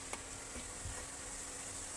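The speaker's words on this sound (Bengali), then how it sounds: "গরম তেলে একদম ছাকা তেলে ভাজছে আমার ফুলে উঠছে" A dense, even hiss of nimki deep frying in hot oil fills the clip, constant and close, with a couple of faint pops.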